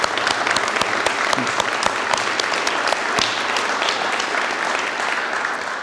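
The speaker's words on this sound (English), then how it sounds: "I would encourage you all to clap with us as well" Audience at a 2021 CNM program event applauding to welcome a guest, steady dense clapping from a large crowd, loud and continuous throughout with no pauses.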